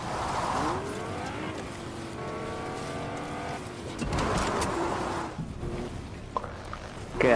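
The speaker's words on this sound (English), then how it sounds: "I'll keep the engine running" Car engine idling and revving steadily inside a video game, a continuous mid-pitched motor drone with rising and falling tones, loud and close throughout with no voices.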